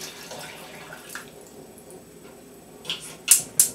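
Tap water runs and pours into a pan holding eggs in a kitchen, a soft steady flow that ends with a few sharp clanks and splashes.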